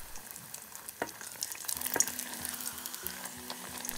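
Sesame hollow donut dough frying in hot oil, a steady close sizzle with scattered crackles and pops and a few sharper spatters.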